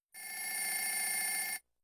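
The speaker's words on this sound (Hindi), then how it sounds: "मोहनराज सुबह के 9 बजे बीमा कंपनी में अधिकारी को फोन किया।" A telephone bell rings in one steady, continuous electronic trill lasting about a second and a half, bright and close, with no voices around it.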